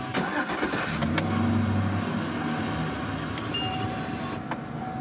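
A car engine cranks and catches, settling into a steady idle rumble, close and fairly loud, with no talking.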